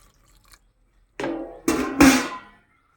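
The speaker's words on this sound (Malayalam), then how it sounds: "പിന്നെ കുറച്ച് വെള്ളം ഒഴിക്കും." Water is splashed into a pot of chopped Kerala aviyal vegetables in two or three short, close pours, each a brief wet gush over a quiet background.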